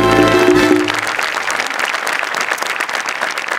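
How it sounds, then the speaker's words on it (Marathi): A standing audience bursts into sustained applause, a dense, loud wash of clapping that follows a musical flourish at the start. "तुमच्यासाठी परत एकदा उभं राहून टाळ्या वाजवायच्या तुम्हाला"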